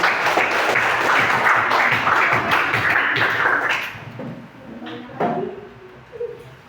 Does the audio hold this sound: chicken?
no